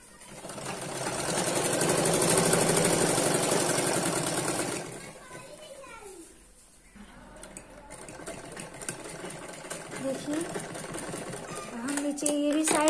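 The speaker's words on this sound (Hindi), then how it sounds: "अब इसको हम पूरा सिल लेंगे।" Sewing machine stitching a petticoat, a loud, steady whirring run for about five seconds that gives way to quieter background sounds with children's voices nearby.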